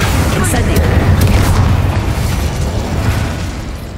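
Bombarda spell explosions in Hogwarts Legacy, loud booming bursts and pops in quick succession over a rumbling battle din, with a voice shouting spell names over the blasts.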